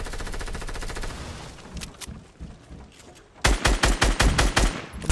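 Rapid automatic gunfire in a shooter video game, a long run of shots that thins out, then returns as a loud, fast, evenly spaced burst close up.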